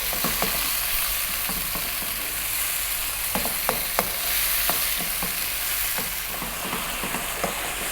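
Tomatoes with chili flakes simmer and cook down in a pan, giving a steady sizzle with frequent clicks and scrapes from stirring, heard close and alone.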